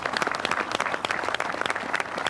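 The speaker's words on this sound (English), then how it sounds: "you can hear this applause" Steady, dense applause from an audience fills the space, sustained and moderately loud with no gaps, many hands clapping at once.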